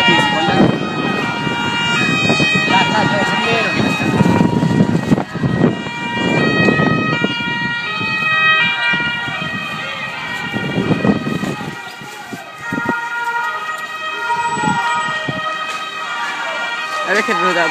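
Police car sirens wailing over a crowd during ultra fan clashes after a Licata-Cavese football match in Licata, the rising and falling tones loud and sustained while people shout and talk throughout.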